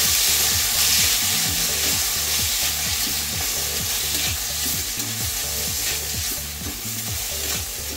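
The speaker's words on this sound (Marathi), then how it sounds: "हा तेलामध्ये थोडा भाजून घ्यायचा छान।" An ingredient for broad beans gravy (valache birde) fries in hot oil, a loud, continuous close sizzle with a steady churning rhythm from stirring throughout.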